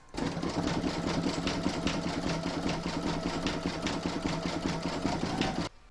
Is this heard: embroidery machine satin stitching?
yes